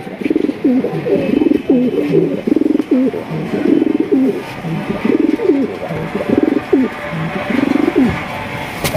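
A fancy racer pigeon of the rasgolla type coos in repeated throaty, rolling phrases, close and loud, with no other sounds around it.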